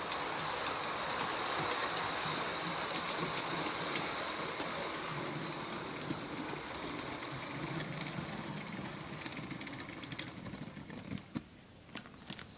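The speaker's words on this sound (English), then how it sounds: "So this is the Bachmann 4MT tank engine." A Bachmann 4MT tank engine model locomotive runs along its track with a continuous mechanical whirr and rattle of wheels, fairly quiet and steady, easing off slightly near the end with no talking.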